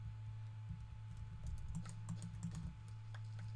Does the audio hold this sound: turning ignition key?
no